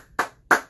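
Two loud, close hand claps, evenly spaced about a third of a second apart, with nothing else heard, at a Stop the Violence basketball tournament event.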